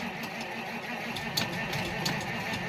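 Old vehicle engine cranking over in neutral without catching, a steady whirring churn with faint rhythmic pulses, fairly close and continuous.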